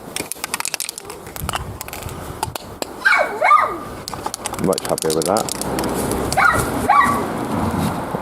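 A dog barks a few times at a distance in a yard, sharp yelps with whimpering tones, while someone talks nearby and birds coo in the background.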